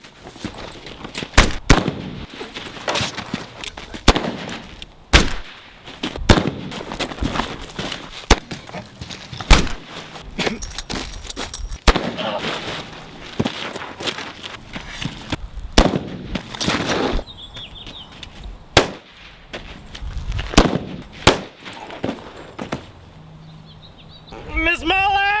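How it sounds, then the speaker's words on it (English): Loud gunshots fire repeatedly, sharp cracks spaced through a staged Western gunfight show by the New Mexico Gunfighters, with shouting voices between and under the shots. "we're coming out shooting"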